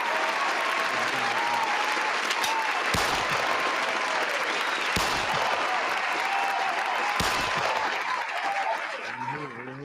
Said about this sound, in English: I got to give y'all a hand clap